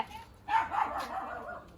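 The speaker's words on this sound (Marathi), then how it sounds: "तिकडे जाऊ नको का, कुत्रा पिसारला त्यांचा, त्यांचा कुत्रा पिसारले." A faint dog barks once or twice at a distance, a short muffled outburst after a brief quiet moment.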